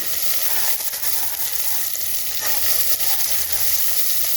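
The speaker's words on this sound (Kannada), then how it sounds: "ಅಲಸಂದೆ ಹಾಕಿದ್ದೀನಿ ಚೆನ್ನಾಗಿ ಬಾಡಿಸ್ಕೊತಿದ್ದೀನಿ" Steady, loud sizzling of black-eyed beans (cowpeas) sautéing with onions in a pan for a cowpea curry, a continuous bright frying hiss with faint stirring scrapes and no voices.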